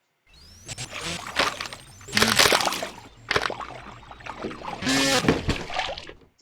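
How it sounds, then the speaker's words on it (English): Repeated rushing splashes of water as an aircraft that isn't water-resistant hits the water in the RealFlight simulator game: several bursts in a row with brief gaps, sloshing and close, with a faint voice briefly underneath. "Whenever the moving object splashes, all the non-moving ones splash"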